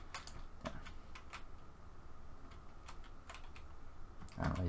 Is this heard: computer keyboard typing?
yes